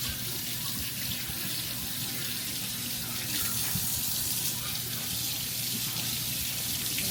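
Tap water runs steadily over store-bought lemons being rinsed in a sink, a constant close rushing splash with no talking.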